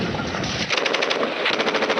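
Dense battlefield gunfire roars loud and close, a rapid machine-gun-like rattle of continuous shots with heavy low rumble beneath, suggesting enemy shelling amid the fighting.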